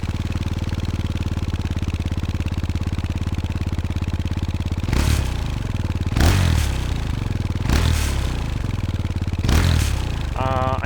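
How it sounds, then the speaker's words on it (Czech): A Fantic Caballero 500 Rally single-cylinder motorcycle fitted with an Arrow exhaust idles with a steady throb, then is blipped four times in sharp revving bursts, close and loud. "Když tu motorku nastartuješ, tak je to opravdu slast to poslouchat."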